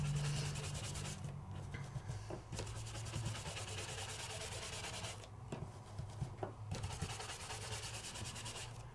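Ink is dragged over embossed cardstock in die-cutting craft work, giving a soft, steady rubbing and scuffing close by, with faint rhythmic strokes and no talking.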